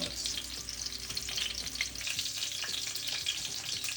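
Breaded pork schnitzel fries in a pan of hot fat, giving a dense, continuous close-up sizzle with faint crackles and occasional light scrapes, and no voices.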